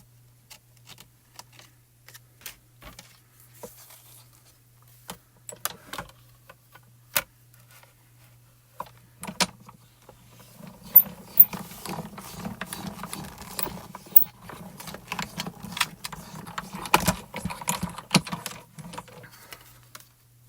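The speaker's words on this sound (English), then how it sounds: "So we're going to tape that there, and then we're going to die cut that." A die cutting machine cuts a stamp die, giving sparse mechanical ticks and clicks at first, then a steadier whirring grind with rapid ratcheting clicks through the second half, close and moderately loud, with no speech.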